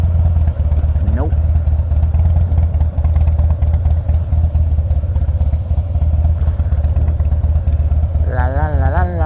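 A Harley motorcycle suffering from hiccups runs steadily during a ride, its loud constant low engine rumble filling the whole stretch with a brief rising rev near the start and a wavering tone at the end.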